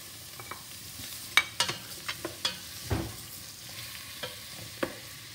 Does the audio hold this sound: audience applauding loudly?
no